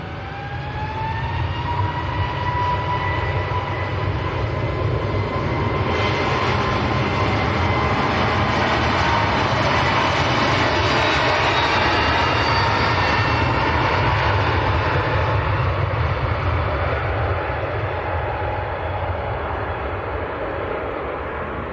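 An airliner takes off from a wet runway at Manchester Airport, a loud continuous jet engine roar with a rising whine, building early and holding steady throughout.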